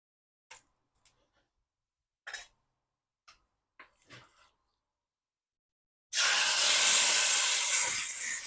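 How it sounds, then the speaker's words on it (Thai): Pork hitting a hot pot with a little oil sets off a sudden loud, steady sizzle that continues to the end, after a few quiet clinks and handling sounds. "หม้อร้อนแล้วก็เติมน้ำมันไปนิดนึงนะครับ ตามด้วยหมูนะครับ"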